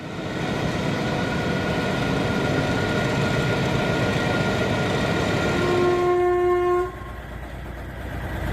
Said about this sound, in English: A startling moment in India shows a train wheel slipping off the track, producing bursts of sparks beneath the locomotive